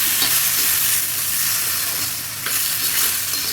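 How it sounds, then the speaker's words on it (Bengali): Taro stolons (kochur loti) are stirred in a hot pan, giving a steady close sizzle with scraping strokes of the spoon, no voices over it. "এটা আমি কচুরলতিগুলো সব দিয়ে দিলাম, দিয়ে নাড়াচাড়া করে।"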